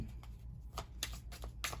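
Tarot cards being shuffled during a reading, a few quick riffling bursts in a short rhythmic sequence, close and fairly soft over a low background hum.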